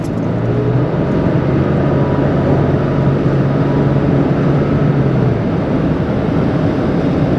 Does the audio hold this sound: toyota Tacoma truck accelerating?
yes